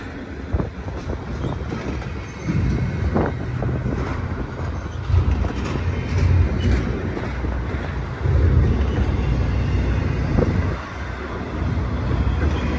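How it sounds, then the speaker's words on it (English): A very long freight train rolls past at Verdemont, a continuous loud rumble and roar with rattling and wind buffeting, steady throughout with slight surges and no talking. "We might get a third train if this one doesn't clear soon."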